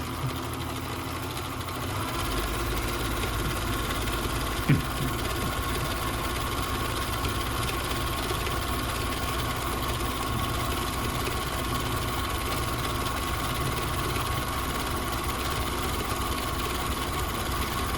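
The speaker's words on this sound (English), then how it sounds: "you can see it feeding back and forth, doing the back stitch on this" A Husqvarna Viking 6430 sewing machine runs a back stitch with a steady, close mechanical hum and rapid needle chatter that continues evenly throughout.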